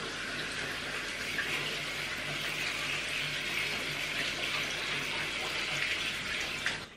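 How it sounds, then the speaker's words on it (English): Water running steadily from a bathroom tap while a face is washed off with a face cloth during a night-time skin care routine, a continuous soft hiss with faint splashing throughout. "Now we're going to wash it off. I'm using a face cloth again to wash it off."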